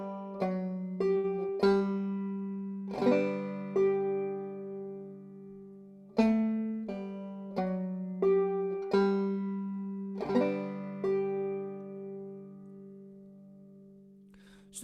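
A banjo played clawhammer style picks the ending line of a tune's A part slowly and alone, with clear plucked notes in uneven rhythmic groups and a ringing drone string underneath.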